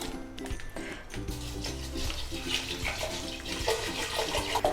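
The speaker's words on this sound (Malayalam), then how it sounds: "ഇനി ഇതിലേക്ക് ആവശ്യത്തിനുള്ള വെള്ളം ഒഴിച്ചു കൊടുക്കാം." Water pours into a pressure cooker holding rice for kanji, a continuous splashing trickle at close range, with light clinks and knocks of metal cookware now and then.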